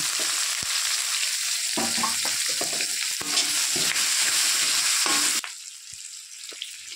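Onion frying in hot oil with ground cardamom, cinnamon, cloves and black pepper for mutton kosha, a loud steady sizzle with stirring scrapes and clatter that drops to a softer hiss near the end.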